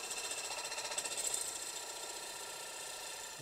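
A bowl gouge cuts wood spinning on a lathe, giving a steady, quiet, buzzing whir with a fast rhythmic chatter. The cut eases slightly toward the end, and no one speaks.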